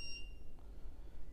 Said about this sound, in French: Appuyez sur suivant et vous devrez entendre un bruit de carillon.